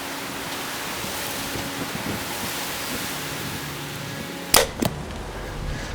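Arrow loosed from a Backyard Bows Edge 320 bow outdoors in wind: a single sharp release snap followed moments later by a second crack of the hit, set against steady gusty wind noise.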